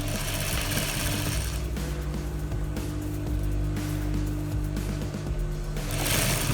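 A sewing machine stitches fabric for an Iro and Buba outfit with a steady close mechanical whir and rapid needle chatter that pauses briefly and starts again, and no voices.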